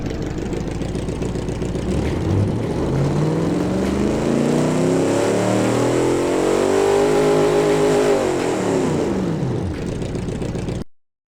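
A car engine in the game Automation idles and then revs steadily upward in one long dyno pull, pitch rising and falling near the end, loud and alone with no talking.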